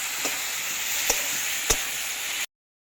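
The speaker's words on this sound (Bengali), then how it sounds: "শিলনোড়ায় বাটা আদা রসুন জিরে শুকনো লঙ্কা, যাকে বলে বাটা মশলা দিচ্ছি বন্ধুরা" Oil hisses and sizzles steadily in a pan as a stone-ground paste of ginger, garlic, cumin and dried chili goes in with salt and turmeric for a rohu and tomato curry, with a couple of sharp knocks before the sound cuts off.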